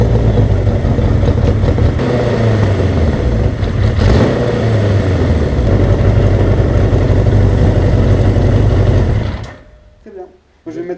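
A cafe racer motorcycle engine, restarted while warm, runs close and loud with a busy rhythmic idle, then cuts off near the end, leaving brief quiet and a few voices.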